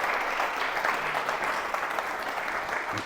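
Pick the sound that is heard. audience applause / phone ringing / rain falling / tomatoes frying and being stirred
audience applause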